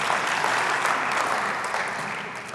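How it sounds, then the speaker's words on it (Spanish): Audience applause in a church service for a young woman volunteer, a loud, dense crowd clapping that holds steady and slowly tapers toward the end, with no voices over it. "Un aplauso a la señorita valiente que nos está ayudando acá."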